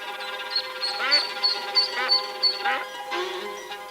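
Ducks quacking in a garden, a run of repeated nasal quacks in quick rhythm, close and clear over a faint tonal background, with no other sounds.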